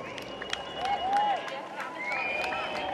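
A crowd outside a castle greets the King and the Queen consort, with scattered claps and raised cheering voices over a steady outdoor murmur and nearby talk.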